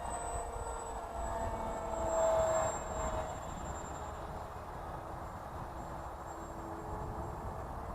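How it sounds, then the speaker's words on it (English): A foam RC Eurofighter model jet flies overhead as a faint, steady distant whine against outdoor background noise, swelling slightly for a moment, no talk. "This is the FRC Foamies Eurofighter version 5 from RC Powers."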